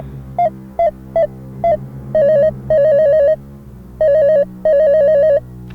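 An electronic telephone ring in a Haryanvi comedy film sounds in repeated bursts: a few short beeps first, then longer warbling trills, loud and steady with no voices.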